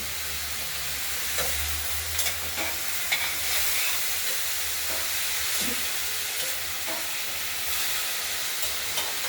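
Chopped cauliflower and peas fry in a pan under a loud, continuous sizzle and hiss, broken by soft scraping strokes as a utensil stirs them.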